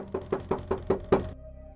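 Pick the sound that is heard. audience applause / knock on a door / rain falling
knock on a door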